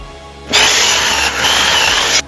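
A power saw cuts through a wooden board being trimmed to size for a DIY modern mailbox. It is a loud, steady, high whine that starts abruptly, holds for nearly two seconds, and stops sharply, up close and with no talk.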